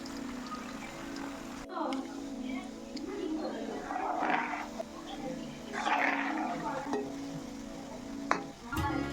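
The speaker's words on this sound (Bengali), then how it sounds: "এবার কড়াইতে গরম তেলে বড়াগুলো এক এক করে ছেড়ে দিচ্ছে" Palm fruit fritters (taler bora) drop one by one into hot oil in a wok, bubbling and sizzling in swells close by while a person talks over the frying.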